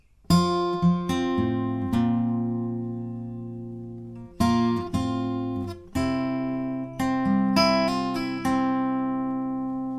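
Solo acoustic guitar plays the opening line of a song, a sequence of strummed and picked chords in a steady rhythm, each ringing and decaying, near and clear.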